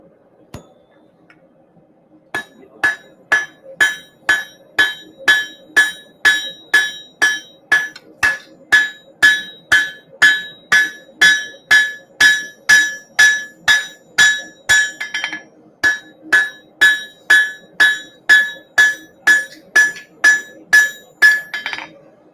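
A hammer forges a hot steel bar on an anvil at a knifemakers' hammer-in, striking in a long, steady series of sharp, ringing blows after a brief quiet start.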